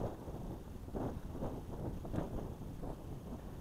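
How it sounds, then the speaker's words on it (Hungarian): Strong wind gusts across an open forest edge beside farmland on a hiking trail near Vinye in the Bakony hills, heard as a faint, continuous, rumbling rush with small swells and no talking. "mert tényleg itt a erdő szélében itt baromira fúj a szél,"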